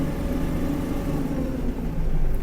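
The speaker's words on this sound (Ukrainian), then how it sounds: "Така робота двигуна." A Kubota KL-33 Japanese mini tractor engine runs steadily up close, a low droning hum with a throbbing rumble that rises slightly toward the end as it returns from driving.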